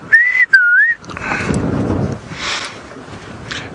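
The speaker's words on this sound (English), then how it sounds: "And I can hear a rufous-naped lark." A rufous-naped lark on a sunrise safari drive gives a clear, loud, two-part whistled call up close, then wind rumble and faint background sounds follow.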